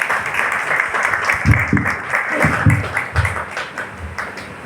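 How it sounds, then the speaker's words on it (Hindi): A crowd applauds steadily at a ceremony honouring a senior writer, a dense wash of many hands clapping with a few sharper claps standing out, and some voices faintly underneath. "तालियां बजाइए"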